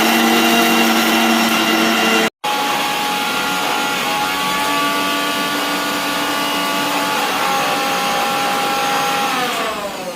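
A kitchen mixer grinder blends coconut and poppy seeds with a loud, steady motor whine. It cuts out briefly near the start, runs on continuously, then winds down at the end.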